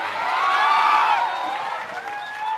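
Applause from a crowd at an outdoor political rally in Bajpatti, Sitamarhi, Bihar, a dense wash of clapping with some voices, steady across the clip and tapering slightly near the end.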